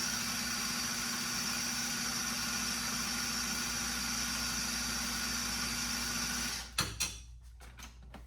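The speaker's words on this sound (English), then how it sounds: "we're just going to blend this up till it gets kind of creamy" A blender runs steadily on a plant-based dip, a continuous motor whir that holds for several seconds and then cuts off, followed by a few faint clicks and knocks.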